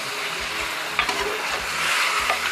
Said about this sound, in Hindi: अच्छी तरह इसे मिक्स करेंगे।